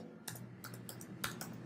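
Keys on a computer keyboard are tapped in a quick irregular run of soft clicks while an email address is entered, quiet and close with no voices.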